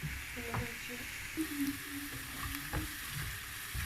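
Mushrooms and onions roast in a pan with a steady sizzle, while a spoon scrapes and knocks against the metal in irregular stirring strokes.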